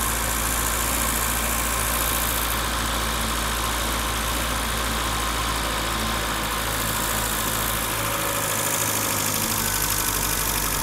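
A 1984 BMW E30 318i engine idles high at around 1400 RPM, a loud, steady, close hum with a faint knocking vibration and no talking.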